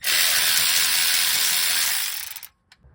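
Rapid ratcheting whir of a ratchet wrench spinning off the front drive shaft bolts on a 1988 Toyota pickup with a 22RE engine, loud and close for about two seconds, then stopping abruptly with a faint click after.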